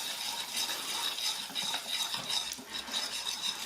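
Butterscotch sauce in a pan being whisked as butter is worked in, a continuous busy wet scraping and sloshing with metallic clinks of the whisk, steady and close, no talking.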